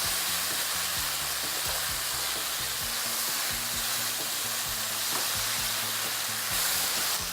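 Food fries in a pan with a constant, fairly soft sizzle. Regular scraping and stirring strokes repeat throughout, with no talking.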